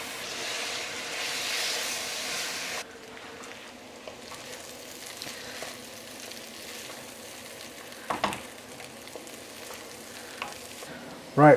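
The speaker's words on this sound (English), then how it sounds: "Potato and the carrots have been cooking away in the onions for a good 5 minutes, low gas." Potatoes, carrots and onions frying over low gas in a pan, a steady soft sizzle that grows quieter after a few seconds, with a couple of brief clatters near the end.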